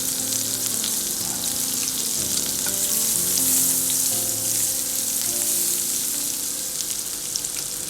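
Oil, butter and chopped garlic sizzle loudly in a pan for a barbecue chicken sandwich, a dense, close, continuous frying hiss with crackles and faint stirring, no speech.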